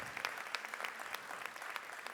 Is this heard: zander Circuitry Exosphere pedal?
no